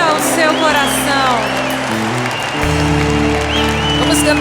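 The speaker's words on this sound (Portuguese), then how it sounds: "Vamos aplaudir o amor de Deus por nós" A church congregation applauding during worship, loud steady clapping with cheers and a voice over it, while organ or keyboard chords sound beneath.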